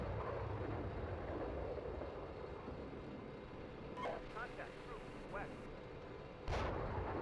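Artillery ICM rounds strike enemy tanks in the Steel Beasts Pro PE simulator, heard as a continuous rumble of distant impacts and firing with a sharper blast near the end, under people talking over the radio.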